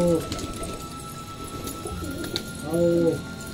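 Pigeons on a net give soft, low cooing calls, one at the start and another near the end, over a steady hum of background noise.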